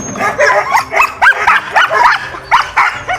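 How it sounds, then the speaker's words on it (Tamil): Alaskan huskies bark and yip in a rapid series of loud, close calls, about a dozen sharp bursts in quick succession with short gaps between them. "இங்கே சில நாய்கள், அந்த அலாஸ்கன் ஹஸ்கீஸ் வச்சிருக்கிறாங்க."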